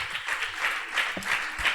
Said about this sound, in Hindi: एक बार जोरदार तालियां बजा दें अनिल जी के लिए।